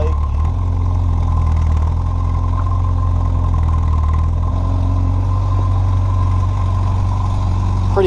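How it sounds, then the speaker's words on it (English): A motorcycle engine idles steadily and close by after being started on a cold day, with a constant low rumble that stays even for the whole stretch and no one talking. "You gotta make sure you started the bike."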